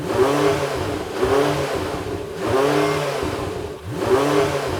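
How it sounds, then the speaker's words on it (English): A naturally aspirated V8 in a Porsche 918 Spyder revs repeatedly, each sharp climb in pitch falling back in a steady pattern of about four loud revs, heard fairly close with no talk. "we'll prove that now by revving up the naturally aspirated V8 in the Porsche."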